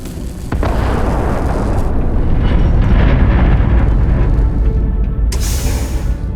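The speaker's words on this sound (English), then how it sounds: "Particle detonation concluded." Particle detonation explosion in Starfield: a massive, loud roaring blast that swells and rumbles for several seconds before a bright hiss near the end.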